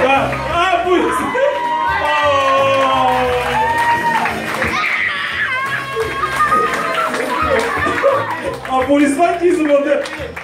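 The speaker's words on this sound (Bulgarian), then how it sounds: "Аплодисменти за младе!" Wedding guests clapping and whooping for the newlyweds, scattered applause and cheers mixed with music and people talking over it.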